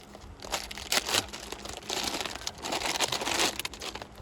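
Plastic packaging around a sprayer filter cartridge for pesticide spraying being torn open up close, a run of crinkling and crackling rips coming in bursts, with no talking.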